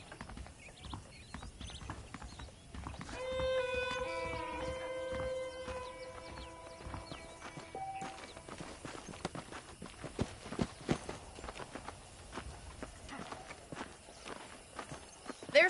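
Horses' hooves clip-clop at a walking pace in the Western video game Red Dead Redemption, a steady rhythm of soft thuds under faint background music, growing busier and more scattered toward the end.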